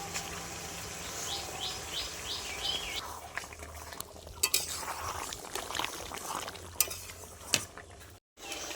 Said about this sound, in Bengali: রেখেছিলাম টক দই, দিয়ে দেবো আমি